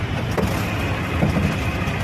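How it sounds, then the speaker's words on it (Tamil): Steady engine rumble and road noise from inside an auto rickshaw in traffic, a continuous low drone with a faint passing vehicle sound, close and moderately loud. "ஆட்டோவில் தான் போயிட்டுருக்கோம் இப்போ டிராஃபிக்கு டிராஃபிக்கில் நிற்குது"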